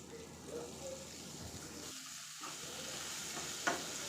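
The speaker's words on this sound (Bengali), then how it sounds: "এক চামচ মতো রান্নার তেল আর দিয়ে দিচ্ছি উড়োর ডাল আর দিয়ে দিচ্ছি একটা পেঁয়াজ কুচি" Urad dal and chopped onion frying in a spoonful of cooking oil in a kadai: a faint, steady sizzle with soft stirring, a short dropout partway, then a small clink.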